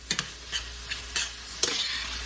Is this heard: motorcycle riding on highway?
no